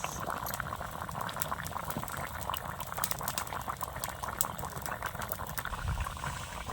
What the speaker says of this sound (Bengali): তরকারি ঝোল ফুটে গেছে